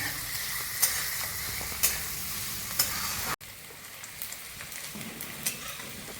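Onions fry in a pan for a paneer pulao, giving a continuous close sizzle with periodic louder scrapes as they are stirred. No one speaks.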